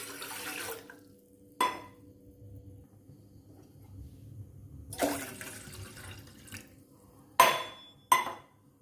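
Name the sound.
water being poured into a tea pot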